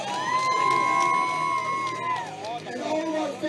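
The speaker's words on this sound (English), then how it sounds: "Make some noise for the Sea Gallery Bouquet." Crowd at a bareknuckle boxing show in Thailand cheering and whooping loudly and steadily, with a sustained whistle-like tone and shouting voices rising over a dense hubbub.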